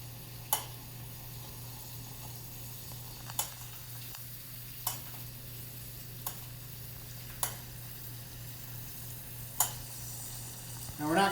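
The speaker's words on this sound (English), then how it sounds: "we're going to baste our roast in this beautiful herbed, garlicky" A roast basted in sizzling herbed garlic brown butter in a pan, with a soft steady sizzle under sharp metallic spoon clicks that repeat every second or two, followed by a louder burst of spattering at the end.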